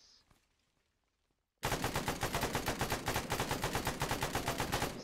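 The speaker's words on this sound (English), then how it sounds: "He's firing from above us." Sustained enemy automatic fire in ArmA III erupts abruptly after a near-silent pause, a loud, rapid, steady stream of close gunshots that continues to the end.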